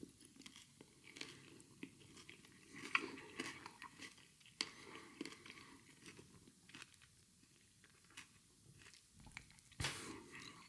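Someone chews a Picnic chocolate bar with nuts up close, with soft, sticky crunches and bites in an irregular rhythm. Everything is quiet and intimate, and no one speaks.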